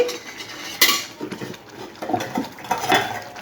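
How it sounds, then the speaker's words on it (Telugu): A metal lid clanks onto a steel cooking pot of simmering gongura and chana dal curry, a sharp near clatter followed by softer utensil clinks and knocks, with no talking. "మూత పెట్టేస్తాను నేను"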